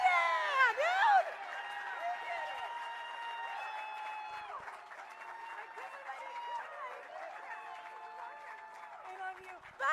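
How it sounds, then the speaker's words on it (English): Crowd at a Hollywood Walk of Fame star ceremony applauds and cheers for a sustained stretch, with whoops and voices layered over steady clapping; a brief burst of shouting opens it before the ovation settles into a continuous, moderately loud wash. "would you please give another round of applause to the world's best friend, but really my best friend, Kristen Bell"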